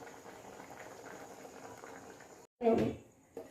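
Bengali ol chingri curry of elephant foot yam and prawns bubbling in a pan, a steady low simmering hiss throughout, then a brief louder splashy burst near the end.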